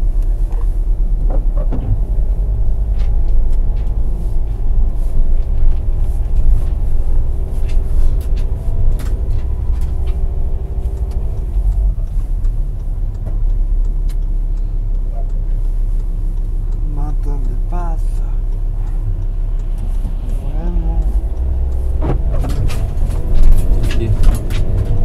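Steady low rumble of an adapted 2008 Volkswagen Transporter van with automatic transmission driving along, a continuous road and engine drone throughout with people talking over it inside the cab.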